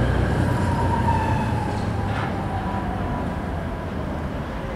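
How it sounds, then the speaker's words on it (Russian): A tram rolls by on a nearby line in central Riga, a loud steady rumble of wheels on rails with a faint squeal, gradually easing as it passes. "Рядом трамвайная линия."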